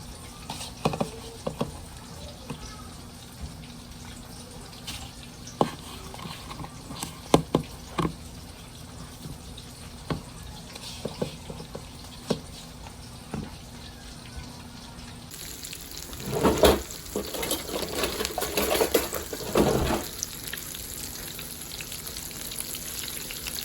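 Jalapeño poppers fry in hot oil in a cast iron skillet, a steady crackling patter and sizzle with scattered pops throughout, growing a little denser and louder toward the end, with no talking.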